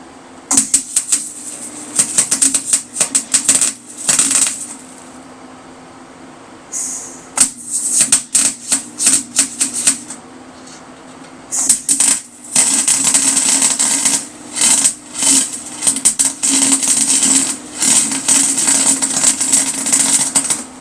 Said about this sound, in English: I'm going to run some TIG rod through here to kind of fill those gaps up, and then just weld onto those